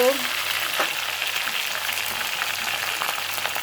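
Chicken pieces and onions frying in hot oil in a pan, a dense close sizzle with a brief clatter at the start and steady crackling throughout.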